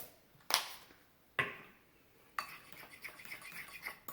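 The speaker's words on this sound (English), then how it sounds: "final stir" A spoon clinks against a mug while stirring vegan brownie batter flavored with almond extract, three sharp taps spaced about a second apart followed by softer, quicker scraping clicks, close and quiet with no talk.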